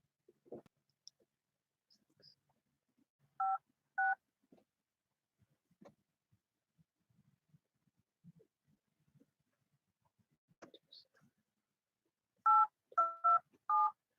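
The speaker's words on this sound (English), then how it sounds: "what I got to do is dial your phone number to get it to come up" A phone number is dialed on a smartphone keypad, DTMF beeps in two short pairs early on and then a rapid cluster of four near the end, separated by near silence and faint clicks.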